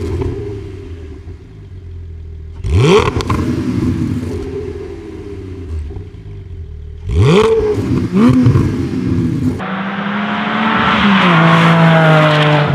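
Porsche 718 4.0 with a Fabspeed aftermarket exhaust and headers revs loud and close in repeated sharp blips, then the flat-six climbs in a sustained rising pull that builds to the end, with no talk.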